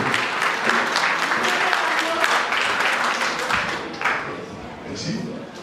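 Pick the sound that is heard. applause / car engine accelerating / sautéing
applause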